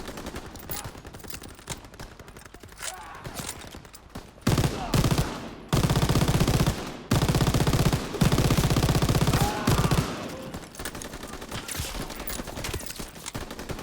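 Sustained machine gun bursts rattle loud and close during a Normandy landing battle in Call of Duty: WWII, with long rapid strings of shots broken by brief pauses over a rumbling battlefield.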